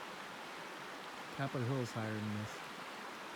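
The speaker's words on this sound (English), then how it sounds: "There's a river." The Bogachiel River rushes steadily in a wild Olympic Peninsula valley, a faint, even wash of water noise heard throughout, with someone briefly talking over it partway through.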